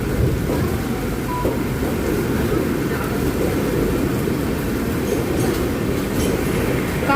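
A Pragati Express train on the Panvel to CSMT run picking up speed, with a continuous loud rolling rumble of wheels and carriage noise heard from inside an AC chair car, steady throughout and without clear talk.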